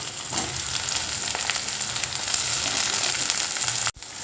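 Chopped green chillies with ginger and garlic frying in a pan for a soya momo filling, a steady close sizzle with faint stirring scrapes, broken by a brief dip near the end, no talk.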